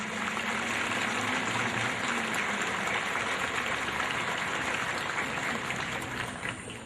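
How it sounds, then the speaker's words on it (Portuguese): Audience at a Brazilian army engineering battalion ceremony applauding the recruits' families, a dense, sustained wash of many hands clapping at steady volume that fades slightly at the very end, with no speech over it. "peço mais uma vez uma salva de palmas agora aos filhos dos senhores e senhoras"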